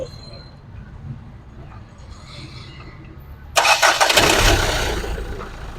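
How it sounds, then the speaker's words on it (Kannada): A Nissan Terrano compact SUV engine cranks and catches partway through, then settles into a loud, steady rumble close by after a quiet stretch. "ಇಂಜಿನ್ ಕೂಡ ಸ್ಟಾರ್ಟ್ ಆಗಿದೆ"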